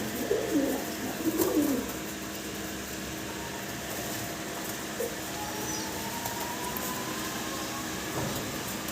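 Fancy pigeons, a pair of owl pigeons among them, coo in a few soft low bursts early on, then a steady background hiss with faint distant rumbling continues.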